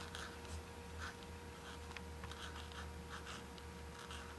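Pen lettering in a journal, with soft scratchy strokes in short bursts over steady low hum, quiet and close.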